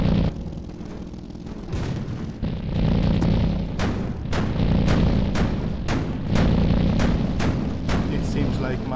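A 37mm tank gun firing in the game Sprocket, with repeated heavy booms at a steady pace of roughly one shot every half second to second, loud and close, with a brief pause early on.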